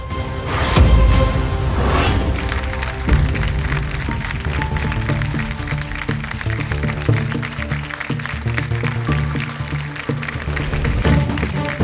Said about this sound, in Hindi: जोरदार तालियों का स्वागत कीजिए